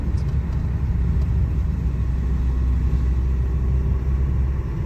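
Low, steady engine rumble of a car climbing a foggy mountain road in the Smoky Mountains, constant and close from inside the cabin, with no talking.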